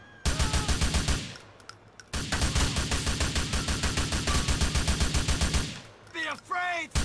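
Gunfire in the video game GTA 4: dense, rapid automatic bursts hammer loudly for several seconds with one short break, then stop, and a few brief voice-like calls follow.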